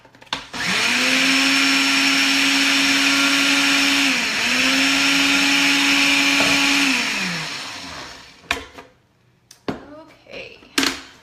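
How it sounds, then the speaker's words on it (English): Food processor spinning sugar into powdered sugar, a loud high whirring motor run for several seconds with a brief dip midway, then stopping, followed by clattering handling sounds. "So I'm just going to put this in my food processor, and just for like a millisecond,"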